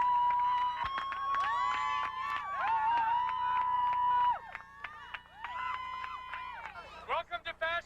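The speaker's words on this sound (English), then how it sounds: "As predicted, the crowd is eager for action." An eager crowd at a Fashion Week show screams and cheers with loud, high, sustained whoops that overlap, then break into shorter, choppier bursts toward the end.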